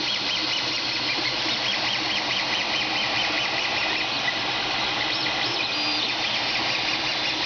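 A classic Creality Ender 3 with no factory upgrades printing PLA filament: steady whirring stepper-motor hum with rising and falling whines, close and constant, no voices.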